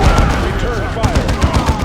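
Gunfire in Warhammer 40K Dawn of War II Chaos Rising, dense rapid bursts of shots and booms layered into a loud fusillade, with a voice talking under the battle noise.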